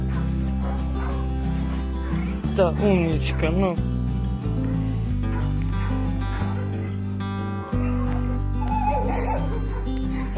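A rescued female dog, once chained for years, whimpers and yips in excited bursts while someone talks warmly over her.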